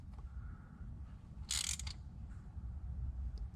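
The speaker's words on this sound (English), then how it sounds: "I'm just going to snug this bolt up" A ratchet snugs a bolt on an oil separator bracket of a 2005-2019 Nissan Frontier 4.0L, a short burst of close clicking rising over a steady low rumble of background noise.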